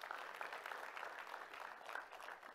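A church congregation claps together in a steady, dense patter of many hands, moderately distant and even in level throughout.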